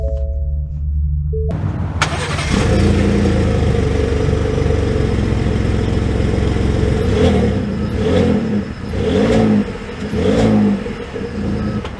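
2022 Ford F-150 STX pickup pulling away and accelerating, a loud continuous engine drone heard from inside the cab that swells in several surges as it speeds up.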